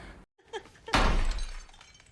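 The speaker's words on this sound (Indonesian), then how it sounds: "tiba-tiba terdapat suara batu yang memecahkan kaca mereka" Stone smashing through window glass in a horror film: a sudden loud shatter bursts in after a brief silence, then scattered glass fragments tinkle and settle for about a second.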